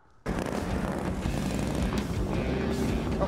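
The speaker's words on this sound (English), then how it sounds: "Nothing sounds like a perfect Panhead." A loud Harley-Davidson Panhead chopper motorcycle engine rumbles steadily after starting abruptly, idling with a deep, throbbing exhaust note and no talking.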